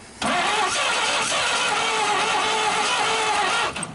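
A 1939 Chevrolet Master being cranked to start after 48 years: a loud, sustained grinding crank starts abruptly and runs for over three seconds before cutting off.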